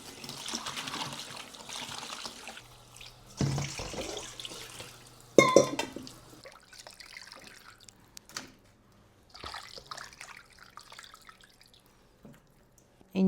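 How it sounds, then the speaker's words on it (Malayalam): Salmon pieces are washed in salted water, giving intermittent splashes, drips and trickles with brief pauses between bursts. "ഉപ്പിട്ടൊന്ന് കഴുകട്ടെ."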